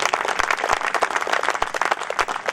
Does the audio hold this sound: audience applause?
yes